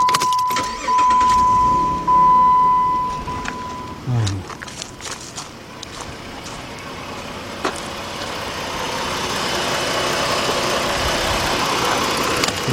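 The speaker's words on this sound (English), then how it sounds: "Start the vehicle up." A 2006 Jeep Grand Cherokee Laredo with the 3.7 engine and a cylinder 3 misfire cranks briefly after a steady electronic chime, then settles into a continuous close idle that grows gradually louder.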